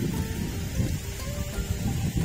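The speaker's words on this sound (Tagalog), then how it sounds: "May ulan." Steady rain falls outdoors in Gabaldon, Nueva Ecija, a dense, even hiss of drops filling the background with no voices.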